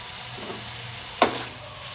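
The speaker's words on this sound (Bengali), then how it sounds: "এবার পোস্তটাকে মিশিয়ে দিচ্ছি।" Poppy seeds frying with beetroot, potato and eggplant in a pan, a steady sizzle with one brief scrape of stirring near the end.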